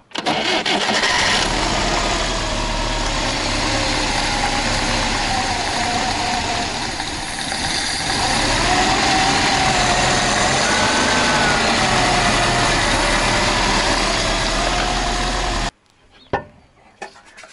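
An Izh Kombi motorcycle engine, its carburetor just tuned with the idle set low, cranks, starts and settles into a steady close idle, then cuts off abruptly with a few faint clicks afterward.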